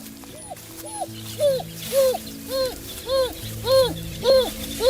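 African wild dogs, a pack-hunting species of Africa, give a quick run of about nine bird-like, rising-and-falling chirping calls, evenly spaced and growing slightly louder, over a steady low tonal drone.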